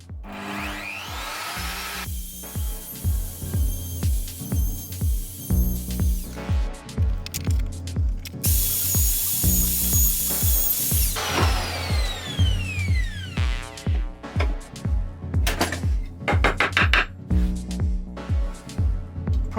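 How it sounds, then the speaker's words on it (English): A handheld router fitted with a 12mm cutter cutting a small mortise in wood, a loud steady motor whine with repeated rhythmic bursts and dips as the bit bites through the timber, close and continuous without talk. "I'm going to cut this with the router with a 12mm cutter in."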